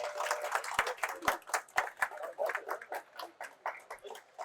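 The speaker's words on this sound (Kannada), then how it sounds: "ಜೋರಾದ ಚಪ್ಪಾಳೆ ಪ್ಲೀಸ್" Clapping from a crowd at a ribbon-cutting inauguration of a postgraduate education expo: sharp hand claps crackle unevenly over steady, moderately loud applause with no voices.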